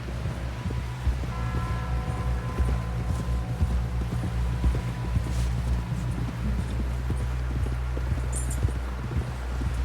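Rhythmic clip-clop of horse hooves at a steady pace in Red Dead Redemption 2 gameplay, over a constant low rumble and background noise, close and continuous.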